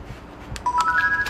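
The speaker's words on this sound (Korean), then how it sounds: "얼마 지나지 않아 엄마에게 전화를 합니다." A few quick telephone dialing tones beep in succession, close and clear, after a brief muffled knock.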